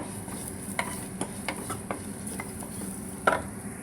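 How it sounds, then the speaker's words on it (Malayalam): Crushed chili being stirred and fried in a pan, a soft steady sizzle punctuated by light scraping taps of a spoon against the pan, close and fairly quiet. "അത് നല്ലോണം ഇളക്കി നമുക്ക് മൂപ്പിച്ചെടുക്കാം."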